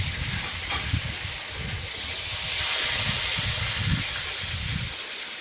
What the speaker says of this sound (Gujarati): અને પછી કઢાઈમાં થોડું તેલ ગરમ કરી તેમાં એક ઝીણું સમારેલું ટમેટું ઉમેરી લેશું